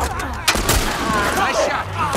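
Gunfire in The Last of Us Part 1, a few sharp close shots over a busy, noisy game soundscape with brief voice-like sounds mixed in.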